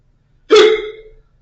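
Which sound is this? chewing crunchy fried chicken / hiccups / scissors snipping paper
hiccups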